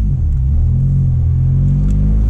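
A Peugeot 207's exhaust rumbles loud and deep at close range, a heavy, steady low drone that fills the whole stretch without any voices.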